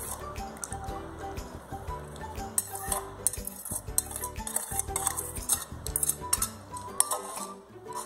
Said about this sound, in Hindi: अब ये इसमें मिक्स कर देंगे